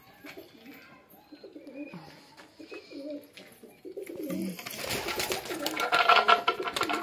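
Pigeons coo in low, soft bursts on a rooftop in the evening, joined later by brighter, busier rustling and chirping that grows louder toward the end.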